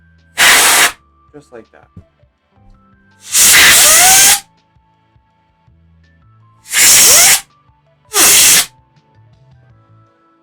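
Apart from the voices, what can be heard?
compressed air can spraying to dust a laptop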